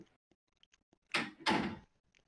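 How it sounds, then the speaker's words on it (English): A door swung shut in a home, two loud close thuds about a third of a second apart, each ringing out briefly, with faint background movement before and after. "I gotta go shut my door"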